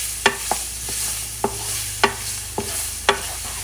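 A spoon stirs gumbo roux ingredients in a pot for Louisiana-style gumbo, five or six distinct knocks and scrapes against the pot at an unhurried rhythm over a low steady sizzle, close up and with no voices.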